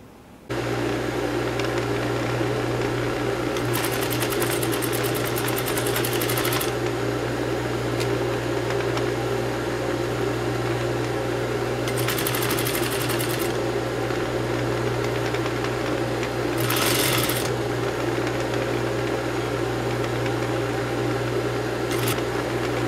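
An overlock sewing machine stitches a blouse hem in three or four bursts of fast, steady whirring close by, separated by pauses, over a constant background hum.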